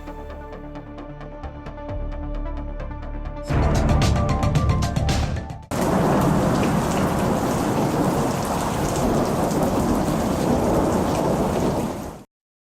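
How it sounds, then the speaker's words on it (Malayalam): Heavy rain pours down steadily with rumbling thunder during a monsoon spell of statewide rain. It is loud and continuous, shifts in intensity midway, and no voices are heard. "സംസ്ഥാനത്ത് പലയിടത്തും മഴ തുടരുകയാണ്."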